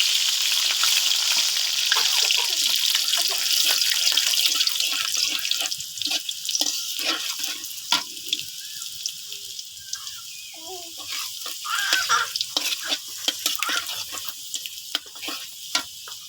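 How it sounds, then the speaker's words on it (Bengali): Garlic sizzles loudly in hot oil alongside dried red chili, a steady bright crackle that keeps going with scattered pops and splutters, and some stirring is heard toward the end. "শুকনো মরিচটা লাল হয়ে গেছে, এখন দিব রসুন।"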